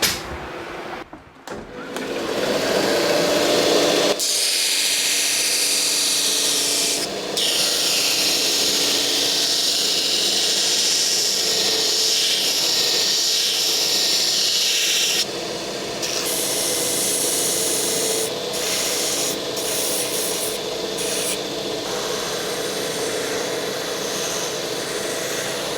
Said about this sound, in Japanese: グラインダー使います。